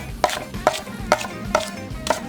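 Knife chopping clean spring onions coarsely on a cutting board, five sharp evenly spaced thuds about half a second apart, close and clear.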